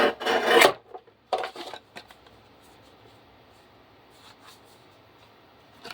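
A paper trimmer cutting a tiny sliver off a card edge gives one loud, close rasping slice followed by a second shorter one, then a few faint scrapes and near silence.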